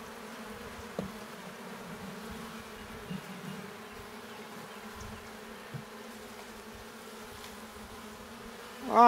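A low, continuous buzz of many honeybees at an open hive during a spring inspection, close by and steady throughout with small knocks and rustles, swelling briefly louder at the very end.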